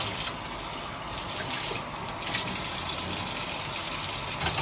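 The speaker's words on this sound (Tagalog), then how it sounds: "maghugas muna tayo" A kitchen tap runs while washing up, a loud, continuous gush of water close by that dips briefly twice as the flow is interrupted, then carries on strongly.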